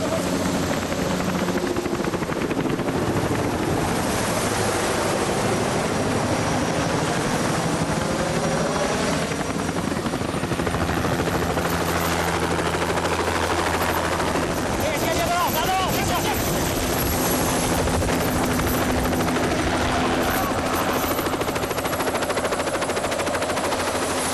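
A loud helicopter roars steadily throughout during a military hostage-extraction exercise in the jungle, its rotor thudding continuously, while voices shout faintly beneath the noise.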